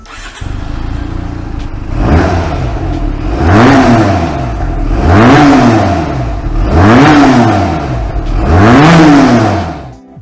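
A Benelli Tornado 252 motorcycle engine revs up four times in a steady rhythm, each rise and fall loud and close, with idling between.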